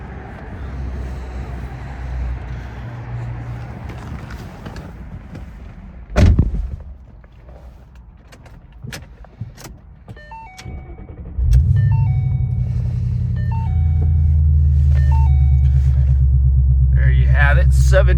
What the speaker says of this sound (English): you might hear a little bit of some loud exhaust